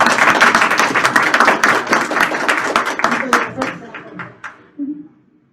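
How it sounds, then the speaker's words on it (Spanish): An audience at a talk with podcast authors gives a burst of hand clapping that thins out to a few scattered claps, with speech mixed in. "Le pido un aplauso para Kate, por favor."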